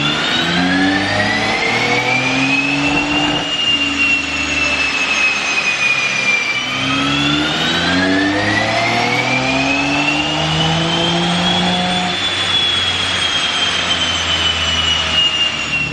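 A BMW X3M with the S58 engine, running on ethanol blend fuel, goes through a dyno pull. It is a loud, sustained engine roar that climbs steadily in pitch through the gears, with a brief dip between gears and continuous turbo whine, and no talking.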